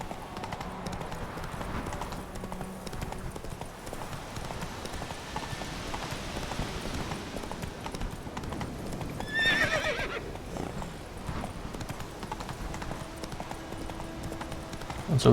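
Roach the horse in The Witcher 3 clip-clops steadily through the whole stretch, with a brief whinny near the middle, set against a busy game soundscape.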